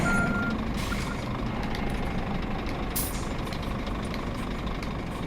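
Truck reversing beeps from On The Road Truck Simulator ring out over a steady, loud engine rumble as the truck backs up with a container, with a brief hiss partway through.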